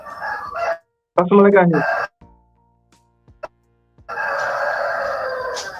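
Farm chickens at a rural home compound that also houses a hatchery, with a rooster crowing loudly and close in one clear call. Someone speaks briefly before it, and ongoing clucking and bird noise follow.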